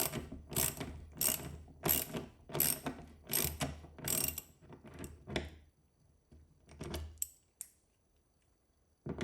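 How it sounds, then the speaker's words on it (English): A socket set ratchet drives screws into a toolboard, a run of repeated clicking bursts in quick rhythm that slows and thins out toward the end, close and alone. "I'm using a socket set just to drive them in"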